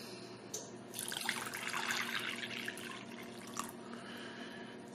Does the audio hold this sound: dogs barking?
no